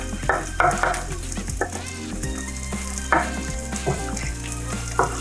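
Garlic hits hot oil in a pot for a Thai prawn and butternut squash soup and sizzles steadily and close, with a few louder spatter bursts and light clinks of utensils against the pot.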